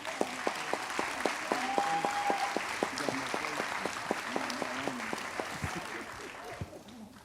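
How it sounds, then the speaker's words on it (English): Young people at a Children's March commemoration in Birmingham applaud steadily for several seconds, a dense crowd clapping that thins out near the end, with a few voices and a whistle-like tone mixed in. "give yourselves a round of applause again"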